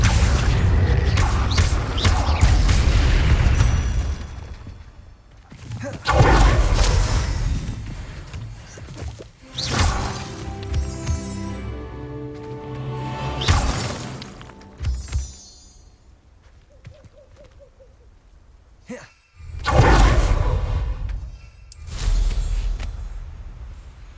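Confringo fire-spell blasts in the video game Hogwarts Legacy: several loud booming explosions with crashing debris, spaced across the stretch amid game effects and quieter gaps.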